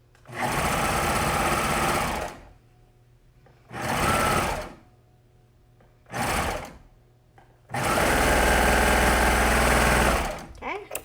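A domestic sewing machine runs loud and close along the shoulder seam of a jersey shirt, in four separate bursts of whirring stitching split by short pauses.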